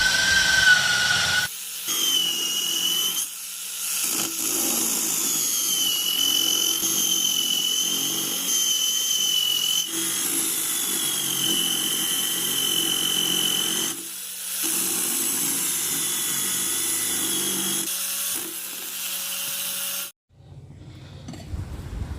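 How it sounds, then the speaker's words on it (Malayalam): Fresh coconut being grated in a home kitchen for a papaya dish, a steady hissing, scraping rasp that runs for most of the stretch, broken by a few short pauses and one sharp stop near the end. "പപ്പായ വേവുന്ന സമയം കൊണ്ട് നമുക്ക് അതിലോട്ട് ഇടാൻ ആവശ്യമായ തേങ്ങ ചിരവിയെടുക്കാം"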